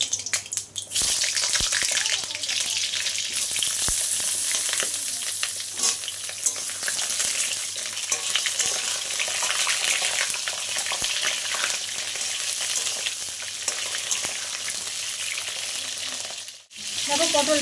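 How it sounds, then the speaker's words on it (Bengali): Pointed gourd pieces fry in hot oil in a wok, a loud, continuous close-up sizzle with crackling spits and occasional stirring scrapes, ending with a brief clink and a momentary lull. "আমি এবার পটলগুলো দিয়ে দেবো। আগে পটলগুলো একটু ভেজে নেব।"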